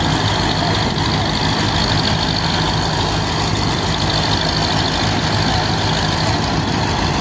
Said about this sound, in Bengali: এই ট্রলারটা কিছুক্ষণের মধ্যে এসে ঘাটে লাগলো